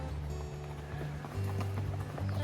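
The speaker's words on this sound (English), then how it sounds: "there go some horses across the bridge." Horses' hooves clip-clop across an old railroad bridge in Big South Fork, a steady run of hoof strikes against a constant low rumble of outdoor background noise.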